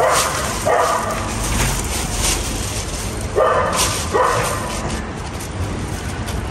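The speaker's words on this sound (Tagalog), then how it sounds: "Nagtatatahol naman yung aso." A dog barks in short, repeated bursts at a moderate distance, set against steady outdoor street background noise.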